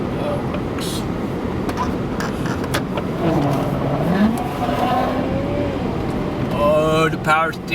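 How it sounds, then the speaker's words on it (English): A truck's power steering strains with a rising and falling whine over a steady engine rumble, the strained tones climbing and wavering near the end, with a person talking at times. "Oh, the power steering's angry."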